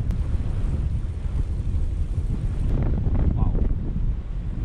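Strong headwind buffets a cyclist on a long-distance ultra-cycling ride heading south, a steady, loud roar of wind noise filling the whole stretch with a brief spoken exclamation near the end.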